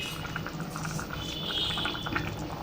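Chicken curry bubbling as it cooks in a pot at home, a steady close simmer of soft pops and gurgles with no talking over it.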